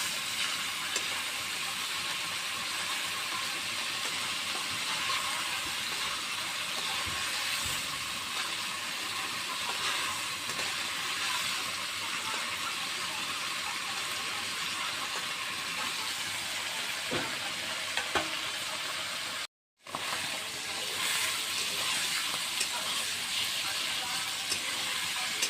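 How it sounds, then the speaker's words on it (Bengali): Pieces of paneer fry in hot oil, producing a steady, dense hiss and sizzle close up that runs unbroken for most of the stretch, apart from one brief dropout near the end. "পনিরগুলো ভাজা হয়ে গেছে"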